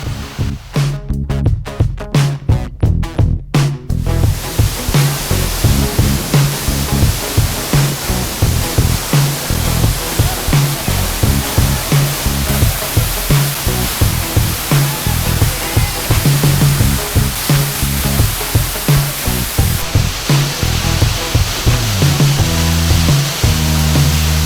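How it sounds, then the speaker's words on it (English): El Limon waterfall in the Dominican Republic, between Las Terrenas and Samana, roars as a steady, dense rush of falling water that stays loud throughout, with brief rough buffeting near the start. "Now I'm at the famous waterfall El Limon between Las Terrenas and Samana."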